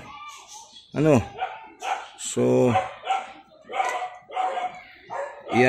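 A dog barks several times nearby, sharp short yelps interrupting someone speaking steadily over it while assembling a collapsible puppy cage.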